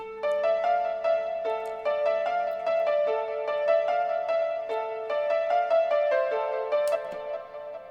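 A trap beat built in FL Studio, with a bright looping bell-like melody over steady rhythmic hits, played clean and continuous with no voices.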